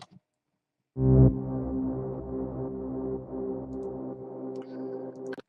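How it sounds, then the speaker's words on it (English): A deep bass sweep with heavy distortion and a little panning starts abruptly after a short silence and sustains with a heavy, reverberant tail, fading slightly toward the end. "that's just a bass sweep with lots of reverb, distortion, a little panning"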